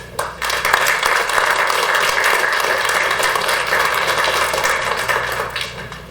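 A conference audience gives sustained applause at a congress, broad, dense clapping that holds steady for several seconds and then fades.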